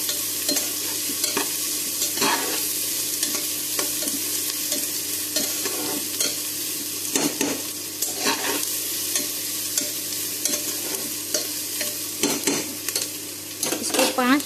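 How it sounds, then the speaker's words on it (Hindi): Onion, garlic and ginger frying in a pan for a jackfruit curry, a constant loud sizzle broken by repeated scraping strokes of a spoon against the metal pan, close up and without talk. "इसको हम नए तरीके से बना रहे हैं, इसीलिए प्याज के साथ लहसुन और अदरक को भी डालेंगे।"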